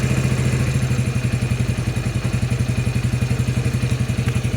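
Yamaha Raptor 80 ATV engine idling after a carburetor clean and idle screw adjustment, a steady close putter with an even, rapid thumping rhythm and no voices.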